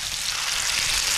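Masala-coated karimeen (pearl spot fish) frying in hot oil, a steady, dense sizzle that holds evenly at close range for the whole moment with no voices.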